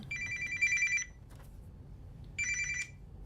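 Telephone ringing nearby, two bright electronic trill bursts about a second apart, clear and alone in a quiet room.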